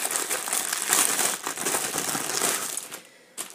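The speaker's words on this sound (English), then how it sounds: "there's going to be a lot of rustling now while I open these up for you" Hand-dyed cross-stitch fabric being unwrapped from crinkly packaging, giving a steady near crackle and rustle of plastic and paper for several seconds before it briefly stops.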